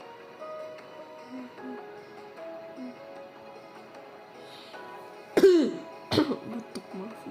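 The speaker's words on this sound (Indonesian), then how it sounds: "Batuk, maaf." A person coughs twice near the microphone, a sharp throat-clearing cough followed by a second shorter one, over a soft steady game background with faint musical tones.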